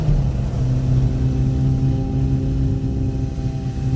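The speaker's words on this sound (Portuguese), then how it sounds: "o motor realmente precisa ser acelerado para ganhar um desempenho, então deixa eu reduzir marcha aqui" Autobianchi A112 small engine running at steady, high revs after a downshift, a droning hum heard from inside the car with no talk.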